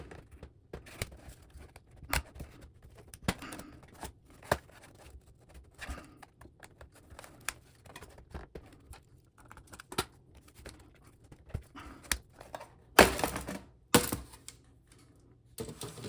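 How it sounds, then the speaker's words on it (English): Plastic pry tool working under the edge of an HP EliteBook laptop panel, giving faint scattered clicks and scrapes with a few sharper snaps near the end as the panel peels away. "You can use a little plastic pry tool here and try to get up under the edge of it and"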